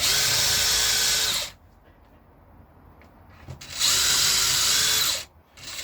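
A power drill whines steadily as it bores a pilot hole into wood for a replica K6 telephone box, stops for a couple of seconds, then runs again briefly, close and loud.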